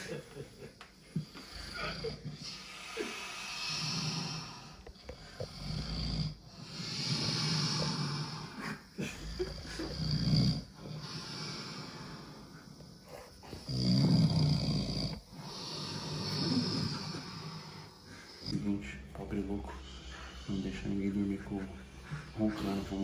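A man snoring in long repeated rasping breaths with pauses between them, recorded close to a microphone amid background noise and some talk.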